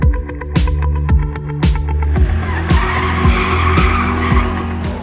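A race car at the 2023 Simola Hill Climb skids with loud tyre squeal over a roaring engine, the screech rising and falling in repeated bursts as the car is driven hard up the hill.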